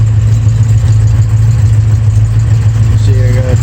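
A 1965 Mustang engine fitted with headers idles close by, a steady, loud, low throbbing rumble that runs throughout, with a brief rising tone near the end.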